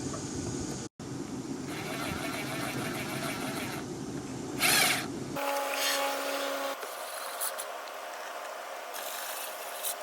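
Screws come out of a 2009-2018 Dodge Ram door panel with a close, steady mechanical whir that stops partway, followed by quieter scattered clicks and a faint hiss.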